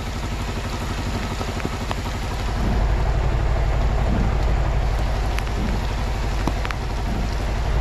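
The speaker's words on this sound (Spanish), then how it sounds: "está lloviendo bien fuerte" Heavy rain pours down on a street in a steady, dense roar, loud and constant with no voices, swelling slightly partway through as the downpour thickens.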